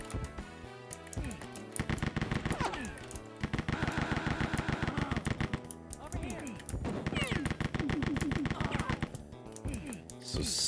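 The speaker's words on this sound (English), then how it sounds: "Those are indeed homing missiles." Rapid mechanical firing bursts from a Rise of the Triad: Ludicrous Edition video game weapon, loud repeated volleys of clicking shots with whooshing sweeps layered over game music, coming in several seconds-long runs.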